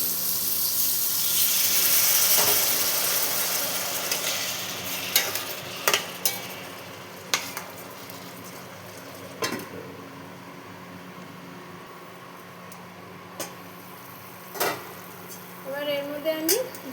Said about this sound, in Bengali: এবার এর মধ্যে আমি সামান্য একটু জল দিয়ে দেবো।